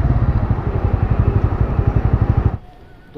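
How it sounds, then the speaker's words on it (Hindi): Motorcycles idle in a Guwahati traffic jam, a loud close engine putter with steady rapid pulses that cuts off abruptly near the end, leaving faint background street noise. "हम लोग ट्रैफिक जाम में फंस चुका हूँ आके।"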